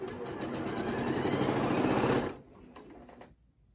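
A Janome Memory Craft 8200 computerized sewing machine, run without the foot pedal, stitches rapidly, its motor whirring and speeding up from medium to fast, then abruptly slows and stops, leaving a few faint clicks.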